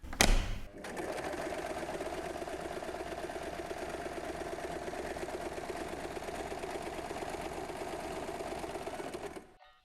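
A sewing machine stitching fabric for a snack bag runs steadily and close, with a fast even rattle that starts after a short click and stops abruptly at the end.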